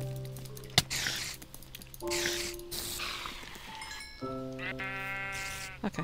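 Sheep bleat repeatedly in a farming video game, several drawn-out wavering calls mixed with soft squishy game effects, close and clear with no voices.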